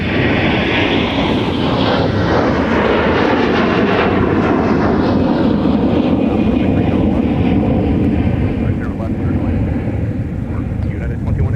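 Airbus A321 jet airliner departing runway 30 left at Minneapolis–St. Paul airport, a loud, sustained engine roar filling the whole clip with broadband rumble, heard near and steady, with radio chatter running underneath.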